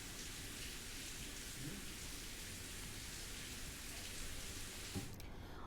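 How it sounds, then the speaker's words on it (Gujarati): Steady rain falls over a rural area of Sabarkantha, Gujarat, a dense, even hiss of drops with a few low rumbles, continuous and fairly close with no voices. "સાબરકાંઠાના ગ્રામીણ વિસ્તારોમાં વરસાદ વરસવાનો શરૂ થઈ ગયો હતો."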